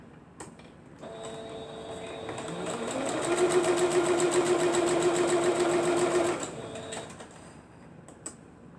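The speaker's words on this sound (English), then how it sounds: "I'm going to sew these two together" A sewing machine joins two pieces of fabric for a pencil quilt block, running in one continuous whirring burst that speeds up midway and then halts, with a couple of sharp clicks before and after.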